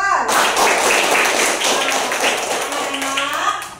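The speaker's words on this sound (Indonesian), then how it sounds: "Tepuk tangan dulu buat Mas Irfan." A class of schoolchildren gives a round of applause, a dense burst of clapping that starts abruptly, stays strong for a few seconds and slowly thins out, with some voices mixed in.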